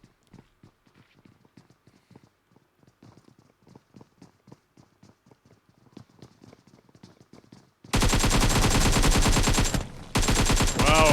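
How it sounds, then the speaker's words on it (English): Gunfire in a PUBG Mobile esports scrim: faint, distant rapid shots crackle in an irregular rhythm, then loud close automatic fire bursts erupt, pausing briefly before resuming. "not even a single bullet lands into Red Ox"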